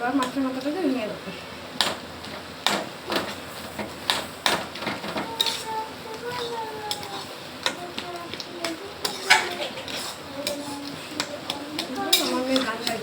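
A fish head is broken apart with a utensil in a cooking pan of gourd curry, producing sharp repeated taps and scrapes against the pan at close range, with a voice and singing underneath.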